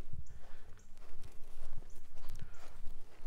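Close, heavy thuds and shuffling of a large horse moving about while eating at a farm campsite, with snorts and soft rustling, no talking.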